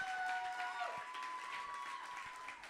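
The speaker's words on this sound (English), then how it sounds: "Keep that round of applause going for Merchant of Poetry" Audience applause at a slam poetry competition, a steady wash of clapping and crowd noise held throughout, fairly distant and even, with a faint tonal line running beneath.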